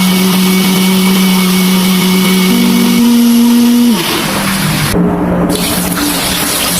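Loud, steady blender motor whirring as it grinds shallots, garlic, turmeric, chilies, candlenut, pepper and coriander with a little water, its pitch shifting upward then dropping as the load changes, running continuously.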